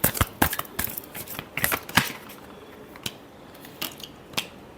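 Tarot cards are shuffled by hand in a few quick riffling and slapping bursts, crisp and close, thinning out into occasional single card snaps toward the end.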